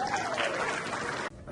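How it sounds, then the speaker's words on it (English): Audience applause at a Pakistani-American doctors' fall meeting in Washington DC, a dense sustained clapping from a crowd that cuts off abruptly near the end. "A hand of applause, please."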